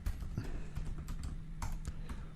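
Rapid typing on a computer keyboard, a dense run of light key clicks at close range with a few louder taps, continuing steadily without any talk.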